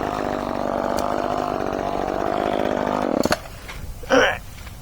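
An Echo CS-305 30cc chainsaw with a 14-inch bar, cutting through a tree trunk, probably mulberry, runs at a loud, steady high rev for about three seconds. It then cuts out abruptly, followed by a brief clatter and a short rustle.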